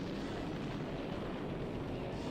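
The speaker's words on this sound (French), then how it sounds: "Explosion nucléaire quoi." A nuclear explosion in a retro video game cutscene for Z, heard as a sustained, loud, dense roaring rumble with no distinct onset, steady throughout.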